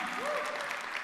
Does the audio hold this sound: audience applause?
yes